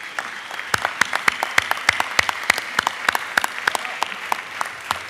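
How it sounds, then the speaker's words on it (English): Applause in a state legislative chamber for a state championship team, a room of people clapping with sharp individual claps standing out, steady and moderately loud throughout. "if everybody could just give them a round of applause"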